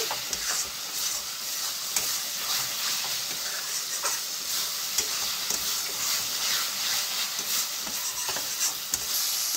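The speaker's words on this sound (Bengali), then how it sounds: "মশলাটা ভালো করে কষাই নেব। মশলার গা থেকে যত সময় তেল না বেরিয়ে আসছে।" Spice paste for a yogurt rohu fish curry fries in oil with a steady, loud sizzle, broken by repeated scraping strokes of a spoon stirring it around the pan, with no talking.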